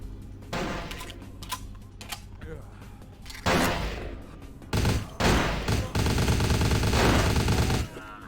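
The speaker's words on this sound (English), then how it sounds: "Oh, it is a submachine gun." Submachine gun fire in Vampire: The Masquerade – Bloodlines, rapid bursts of automatic shots that come in short stuttering volleys and then a longer sustained stretch, loud and close, with game sounds mixed in.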